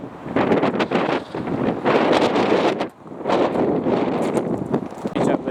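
Strong gusts of wind buffet the microphone outdoors at the Goulburn railway roundhouse, roaring in loud surges with a brief lull near the middle and no talk.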